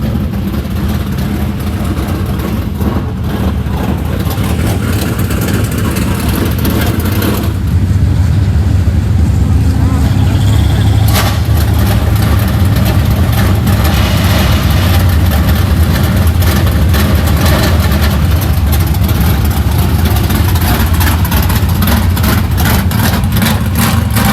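UMP modified dirt race cars run hot laps at Hattiesburg Speedway, a loud continuous engine roar with low rumble that swells and surges as cars pass, steady throughout with faint voices underneath.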